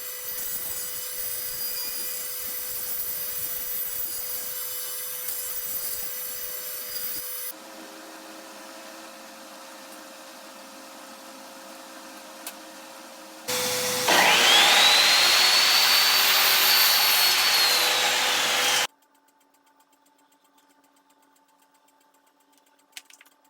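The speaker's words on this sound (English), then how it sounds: "Now I can start to cut up the 2x8 so that I can make the pieces for the face frames." Power tools cut 2x8 lumber into face-frame pieces for a closet built-in, with a steady motor drone that changes pitch between sections and then a louder, harsher whining cut before stopping abruptly, heard up close with no talk.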